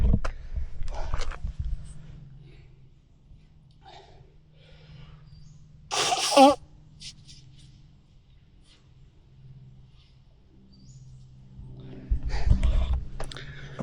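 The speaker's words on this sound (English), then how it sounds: "Need to blow my nose." A single short, forceful nose blow sounds once midway through an otherwise quiet stretch, with faint voices at the start and end.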